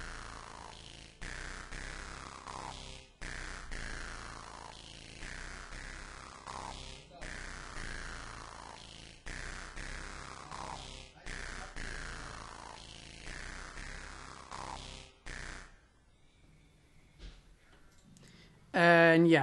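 The Saturn V software synthesizer plays a repeating electronic phrase with sweeping, falling tones in regular bars, then thins out near the end before a sharp, bright burst.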